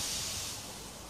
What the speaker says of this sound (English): Finally, Edward puffed in.